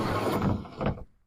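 A storage drawer in a cheap homemade truck-bed camping setup slides open in one quick rumbling pull that ends abruptly.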